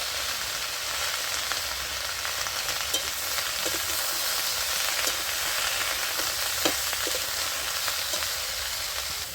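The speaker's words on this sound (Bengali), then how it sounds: "তো সবজিটা আমার ভালো করে কষানো হয়েছে" Vegetables sauté in a pan with salt and turmeric added, a steady, close hiss of frying with occasional soft stirring scrapes throughout, and no voices.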